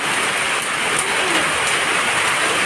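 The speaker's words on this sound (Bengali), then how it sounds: "হঠাৎ করে অনেক বৃষ্টি চলে আসলো।" Heavy afternoon rain pours down in a dense, unbroken roar, loud and close, with no let-up and no voices.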